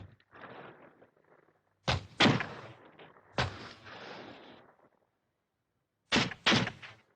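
Musket fire from militia in a film, several sharp booming shots in separate clusters with rumbling decay after each, a pair near two seconds, one near three and a half, and a double report near the end.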